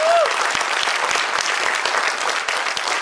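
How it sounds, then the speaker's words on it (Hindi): An audience at a children's stage play applauds the mentors with steady, dense clapping from many hands, sustained evenly from start to finish. "तो मेंटोर्स के लिए जोरदार तालियां।"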